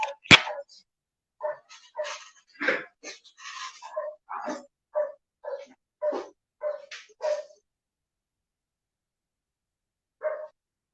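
A dog barking somewhere near an online lecture in Portuguese, a steady run of about a dozen short, sharp barks and yips at an even pace, fairly loud and alone, then a pause before one last bark.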